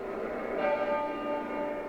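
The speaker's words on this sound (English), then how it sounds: "At Westminster Abbey, bells tolled every minute, 99 times in honour of the prince" A church bell at Westminster Abbey tolls in honour of Prince Philip, sounding one sustained, ringing stroke that hangs in the air and fades slowly.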